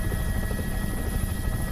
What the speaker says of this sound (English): The helicopter's climbing, my heart's racing, and I'm trying to keep it together.